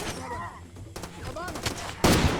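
Gunfire from the Far Cry 2 video game: several sharp shots in quick bursts, close and loud, with a louder crack near the end, while a voice talks throughout.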